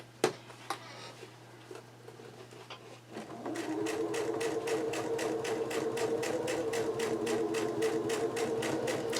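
A sewing machine stitches a quilt, running slowly; a few isolated clicks give way to a steady motor whir with evenly spaced needle thumps, close and alone.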